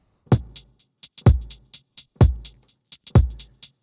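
Electronic hi-hat pattern in a house track, steady closed ticks with a deeper kick-like thump on each beat, closing on an open, splashing hi-hat; loud and alone, with no talking.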